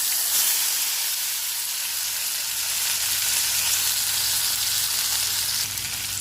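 Tomatoes hit hot peanut oil with mustard seeds, fenugreek and cumin, producing a loud, bright, steady sizzle and hiss close up that carries on evenly throughout, with no one speaking.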